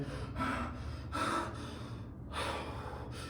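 A voice imitates heavy panting after running, with three quick, breathy gasps in a steady rhythm, close and fairly soft.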